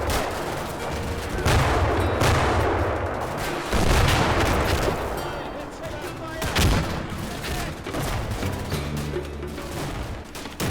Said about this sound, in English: A firefight erupts in the courtyard between two buildings east of the church